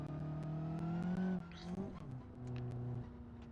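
A car in BeamNG.drive revs its engine and pulls away from a standstill at the start of a Tough Car Challenge parade lap, a steady rising drone with a gear change and a brief tire chirp, fairly close and alone.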